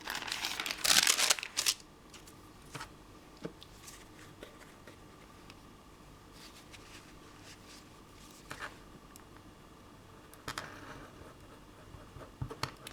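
Music paper for a Valentine wedding journal page crinkles and crumples in a loud early burst, then gives quieter scattered rustles and pats as it is pressed down, close up.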